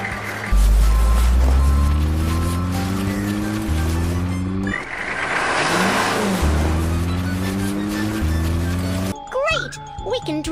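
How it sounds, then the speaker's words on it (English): Cartoon snow plow engine driving along snowy roads, a stepped, rising engine tone repeating in loud waves that build and drop, with a whooshing swell in the middle and a brief chirpy effect near the end. "I'll get a snow plow to clear the roads."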